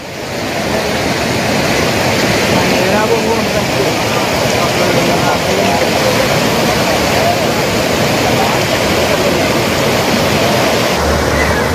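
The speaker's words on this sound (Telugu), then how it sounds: "దొండపూడి, సాతిపూడి గ్రామాల మధ్య వరద నీరు ఉధృతంగా ప్రవహిస్తుంది" Floodwater after heavy rain flows strongly between the villages of Dondapudi and Satipudi in East Godavari district, a steady, dense roar of rushing water filling the scene without pause.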